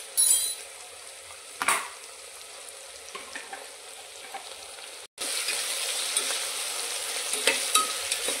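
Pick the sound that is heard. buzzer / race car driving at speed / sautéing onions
sautéing onions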